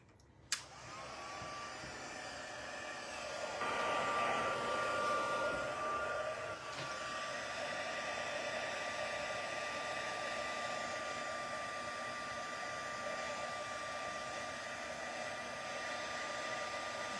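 A craft heat tool blows hot air onto embossing powder with a steady whirring hiss that starts abruptly and runs continuously, fairly quiet and close, with no talking.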